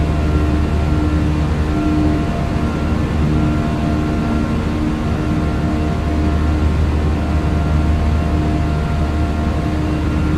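Jet engines of a ToLiss A320ceo on the takeoff roll in X-Plane 12 give a loud, steady roar with a constant hum and whine throughout, and no voices.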